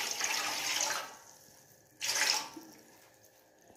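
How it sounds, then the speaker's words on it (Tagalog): Water poured into a cooking pot for steaming fish, two short gushing pours a second or so apart, close and fairly soft in a kitchen setting. "Lalagyan po muna natin ng tubig."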